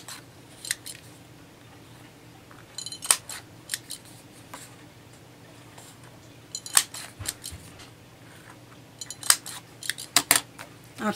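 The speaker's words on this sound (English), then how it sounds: "then I rounded my corners" A handheld corner rounder punch bites through the corners of a journaling card, giving short sharp clicks and snips in scattered clusters with quiet handling between them and no talking.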